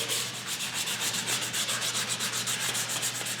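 Fine-grit sandpaper rubs steadily over the wood of a Premier Challenger guitar build in quick, regular back-and-forth strokes, close and continuous, with no voices.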